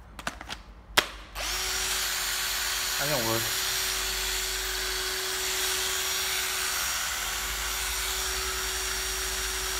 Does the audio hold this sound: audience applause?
no